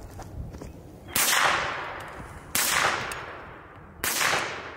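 Three sharp gunshots from a 10mm handgun, a Hi-Point JPX or Glock 20, fired outdoors at a range, each a loud crack with a decaying echo, spaced roughly 1.4 seconds apart.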